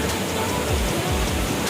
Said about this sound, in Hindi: काफ़ी मज़ेदार वाटरफॉल है